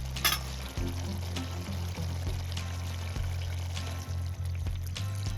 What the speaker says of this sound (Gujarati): આમાં આપણે થોડુંક અમથું હવે પાણી નાખવાનું છે.